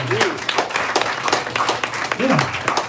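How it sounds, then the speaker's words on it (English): A church congregation claps steadily throughout, dense continuous applause with voices and shouts rising over it in a lively worship service. "clap your hand for Jesus"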